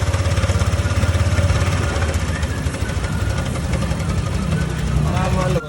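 A Honda Click scooter engine idling with a noisy cam chain tensioner, a steady, busy mechanical running sound with a fast rattling tick close to the microphone, continuous and fairly loud.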